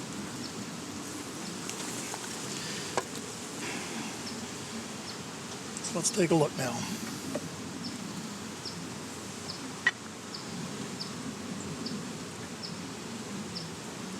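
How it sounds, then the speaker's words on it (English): Honeybees at an opened, smoked hive make a steady, diffuse hum throughout, with brief handling noises partway through and a person speaking briefly over it. "There's some bees."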